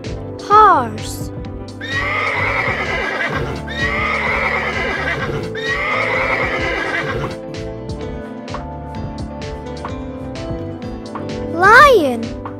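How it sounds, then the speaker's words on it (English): A horse neighs three times in a row, loud, shrill whinnies of about a second and a half each, with short clips of music or effect sounds before and after. "Horse."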